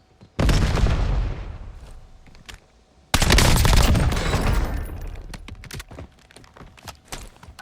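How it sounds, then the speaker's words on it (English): A frag grenade thrown in the Warzone video game bursts with a loud boom and rumbling decay, followed by a second heavy blast and scattered sharp gunfire cracks. "Frag going out."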